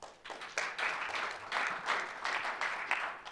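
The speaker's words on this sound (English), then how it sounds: "Give yourselves a round of applause for that." Audience applause at a Rotary talk on polio eradication, a sustained wash of many hands clapping at moderate distance, steady and full throughout with no voices over it.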